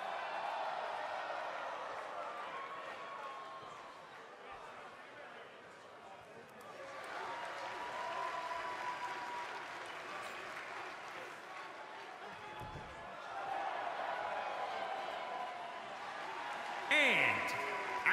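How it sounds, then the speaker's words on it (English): A wrestling arena crowd roars and cheers ahead of an extreme-rules tag team match, a steady mass of applause and shouting that swells again near the end, with a commentator talking over it. "it sounds to me like the crowd is more than ready for this one"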